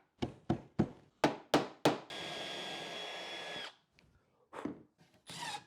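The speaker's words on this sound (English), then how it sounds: "a single screw secures the bottom to the back panel." A power driver sinks a screw into a plywood back panel on a nightstand, opening with several short bursts before one sustained whirring drive, followed by a few soft taps and a brief final burst.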